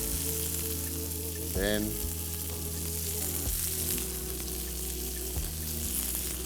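Vegetables stir-fried with chicken in a hot pan, a loud, continuous sizzle with brief clatter and tossing noises, one short voice in passing.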